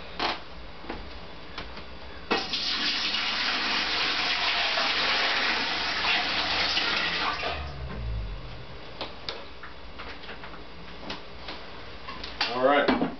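Water runs steadily from a tap into a cooking pot for several seconds, a broad rushing splash, followed by clinks and handling noises.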